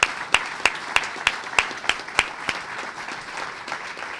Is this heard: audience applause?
yes